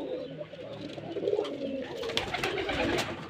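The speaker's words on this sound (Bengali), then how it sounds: "আর এই যে অসংখ্য কবুতর এখানেও" Giribaz pigeons coo softly in a loft, overlapping throaty burbles close by with a few faint clicks and rustles, no talking.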